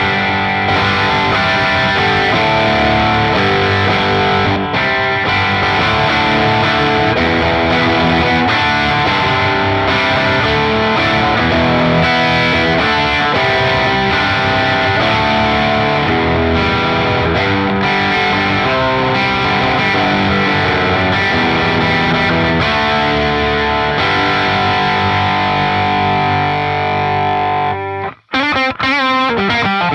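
Electric guitar through a Friedman BE-100 Deluxe amp on its BE channel, a dense distorted high-gain tone played continuously and loud for the whole stretch, cutting off abruptly at the end.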